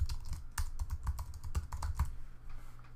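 Quick, soft keystrokes on a computer keyboard as text is typed, an irregular patter of close clicks with brief pauses, fairly quiet.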